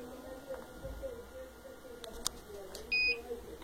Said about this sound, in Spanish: Allí tenemos el sensor de movimiento, el cual nos hace ese bip que indica que me estoy moviendo.